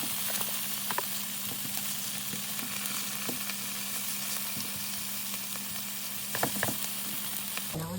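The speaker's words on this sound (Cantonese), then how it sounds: "當一邊煎到金黃色之後，我哋反轉嚟，將另外一邊都煎到去金黃色" Tofu pan-frying in oil until golden gives a steady, even sizzle throughout, with a few faint clicks and taps near the end and no talking.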